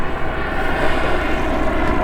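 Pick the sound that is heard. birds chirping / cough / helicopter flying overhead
helicopter flying overhead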